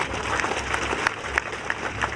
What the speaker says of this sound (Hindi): एक अविनाश जी सैनी के लिए जोरदार ताली बजाओ